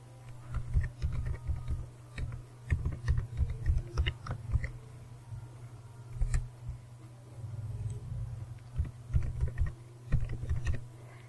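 Quiet, steady typing on a computer keyboard, keys clicking in short irregular bursts with brief pauses, close and fairly soft over a low electrical hum.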